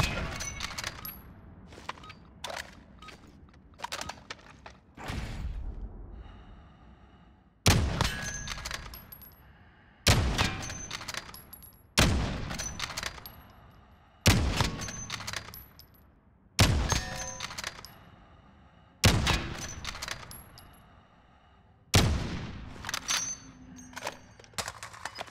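Repeated gunshots from Call of Duty Warzone, a marksman rifle firing about eight loud sharp cracks at a steady slow rhythm across the clip, each with a ringing metallic tail, between quieter ambient game noise.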